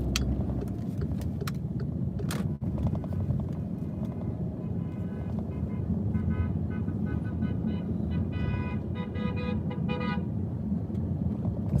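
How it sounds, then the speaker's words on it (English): A truck horn heard from inside a car in traffic, several short toots over steady road and engine noise, with more rapid honking bursts near the end. "That truck was just beeping like crazy."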